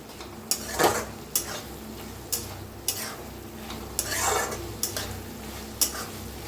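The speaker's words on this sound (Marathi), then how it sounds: "मिक्स करूया." A spoon stirring cluster bean curry in oil in a pan, with regular clinks and scrapes against the metal over a soft background sizzle.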